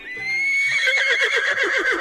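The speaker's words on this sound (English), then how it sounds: "Horse. That's right, it's a horse." A horse neighs loudly and close up, one long shrill whinny that wavers and trembles as it fades, heard alone as an animal-sound quiz for kids.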